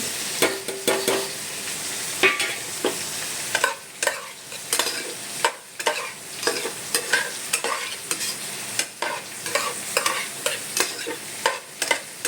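Egg and shrimp being stir-fried in a pan, with a loud, rhythmic series of spatula scrapes and clacks over a steady sizzle, close and without any voices.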